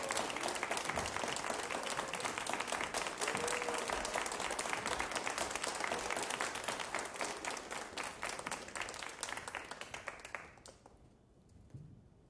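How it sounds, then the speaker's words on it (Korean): A concert audience at a performing arts festival in Chuncheon gives sustained applause as a jazz vocalist takes the stage, dense clapping that fades gradually into quiet near the end. "큰 박수 부탁드리겠습니다."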